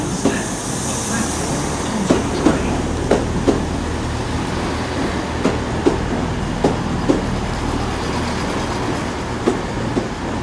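A Class 166 diesel unit on the Newton Abbot service rolls into Exeter St Davids station on a Sunday afternoon, a steady loud rumble with regular wheel clicks over rail joints, no voices over it.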